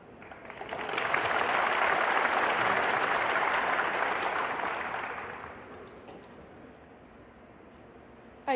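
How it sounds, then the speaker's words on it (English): A snooker crowd at the Shanghai Masters semifinal cheers and applauds for Ronnie, a dense burst of clapping that swells quickly, holds for several seconds, then gradually fades into a quieter murmur. "you can hear the big cheer from his supporters"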